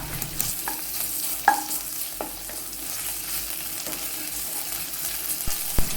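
Onion sautéed with crushed ginger and garlic in a pan, a steady sizzle of frying under repeated spoon scrapes and a few sharp clinks against the pan, close and moderately loud with no talking.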